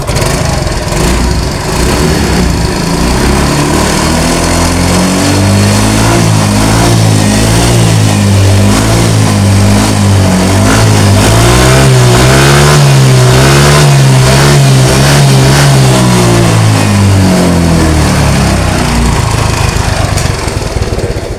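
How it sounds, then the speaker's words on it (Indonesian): A scooter engine revving loudly up and down in repeated swells, close by, with a rough buzzing tone and no talk; its CVT has been contaminated with oil. "Kita geber."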